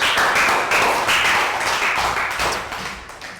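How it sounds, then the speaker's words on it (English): A classroom round of applause fills the room, a dense patter of many hands clapping together that stays loud before thinning slightly toward the end, with no one speaking over it. "Round of applause."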